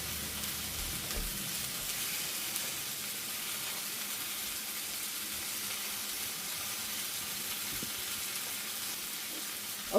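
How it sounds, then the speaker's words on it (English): Tomatoes sizzle and char in a hot pan for green chile salsa, a steady close frying hiss running unbroken throughout with faint stirring scrapes and a small clatter at the very end. "now all my tomatoes, and I want that little bit of a char on them"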